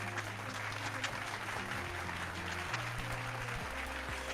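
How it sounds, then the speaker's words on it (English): Steady applause from a crowd that holds at an even level over music throughout, with no talking. "You all deserve a round of applause."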